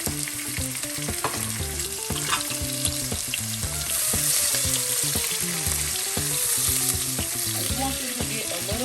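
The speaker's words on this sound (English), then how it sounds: "We're gonna saute these onions in our pan." Red onions sauté in oil in a pan with a steady, loud sizzle and frying crackle, stirred now and then throughout, close by and with no voices.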